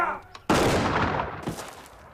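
A firing squad's rifle volley cracks out as one loud, broadband blast that decays into rolling echo, followed by a smaller second report; a shouted command is heard just before it.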